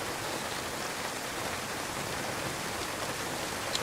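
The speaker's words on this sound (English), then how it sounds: "as I sit out here in the pouring rain. I'm gonna get soaked in a second." Pouring rain in the video game DayZ, a dense steady hiss of downpour with no breaks, moderately loud and close, heard alone.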